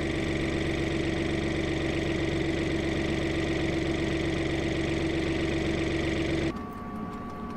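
A boat's inboard engine idles steadily while antifreeze is drawn in through the water filter, a loud, even drone with a constant hum that runs unbroken before cutting off abruptly near the end, leaving a quieter background.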